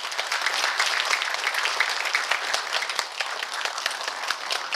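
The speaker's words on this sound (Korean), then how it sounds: "여러분 큰 박수로 환영해 주시기 바랍니다." A large audience applauds to welcome a provincial vice-governor at a Gangwon Special Self-Governing Province briefing in Yangyang, a dense, loud, continuous wall of clapping with sharp individual claps poking through.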